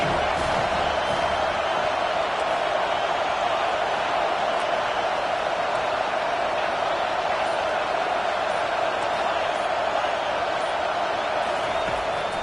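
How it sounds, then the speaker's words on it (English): Stadium crowd at an American football game on third down, a dense continuous roar of cheering and noise held at a steady loud level throughout. "Decibels rising as the crowd gets behind this defense on third down."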